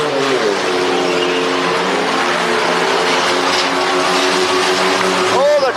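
A rear-wheel drive truck engine roars steadily at racing speed, loud and sustained, with a droning tone that holds throughout and a brief pass near the end.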